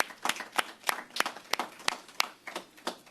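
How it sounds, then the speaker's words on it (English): Scattered hand claps sound from a small crowd at a New York City pre-K announcement event, about a dozen distinct, fairly close claps in a loose, uneven rhythm. "Give them a round of applause."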